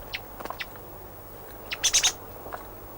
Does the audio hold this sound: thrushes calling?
yes